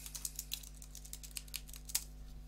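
Fingers type on a computer keyboard in a quick, uneven run of light close clicks, with one sharper keystroke near the end over a low steady hum.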